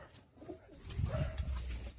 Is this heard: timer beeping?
no